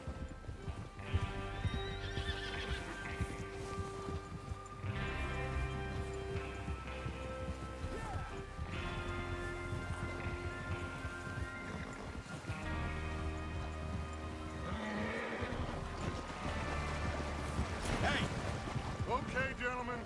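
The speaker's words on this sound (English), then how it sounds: "Get your horses ready." Horses in Red Dead Redemption 2 neigh and whinny repeatedly while hooves clip-clop steadily, set over a continuous musical score with some talk mixed in.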